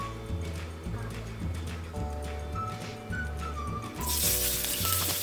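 Cooking oil heating in a frying pan for pork afritada, giving a steady low sizzle and crackle close by, with a louder hiss near the end.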